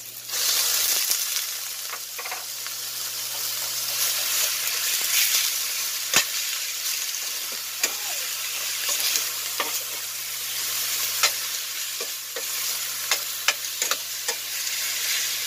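Ground pork frying in a pan for a string bean sauté, a steady broadband sizzle throughout with repeated sharp scraping and stirring clicks of a utensil against the pan, close and fairly loud, no talking.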